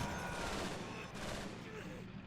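.50 caliber machine gun fire in a Battle of the Bulge war game, a dense continuous rattle of rapid shots mixed with distant battlefield rumble, loud and unbroken across the short span.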